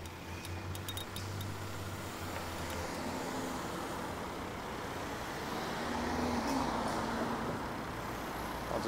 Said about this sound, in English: Just wait for there to be an opening in traffic as it's reduced to one lane here.